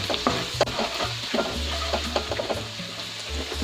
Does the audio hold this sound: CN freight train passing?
no